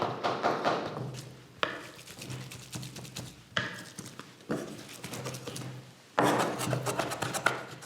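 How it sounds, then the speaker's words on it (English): Food being patted dry with a cloth or paper towel to remove excess liquid, heard as soft rubbing and dabbing in separate bursts with short pauses, fairly quiet and close, with no talking. "And then just patting it to get rid of any excess liquid."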